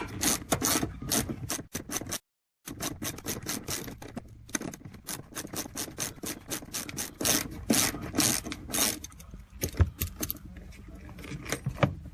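Loosening and removing a 14mm lower seat belt mount bolt in a car: a close, busy run of metallic ratchet clicks, scrapes and rattles in quick irregular bursts, briefly pausing partway, with no talk.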